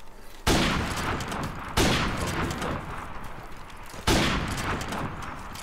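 Three heavy gunshot volleys from Call of Duty: Modern Warfare Remastered, played in a 1v1 match, each striking loud and close at irregular intervals, then fading into a rumbling tail before the next, with no talking.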